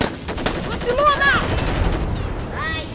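Rapid bursts of gunfire from the video game GTA V crackle under busy game sound, with a voice talking over the action.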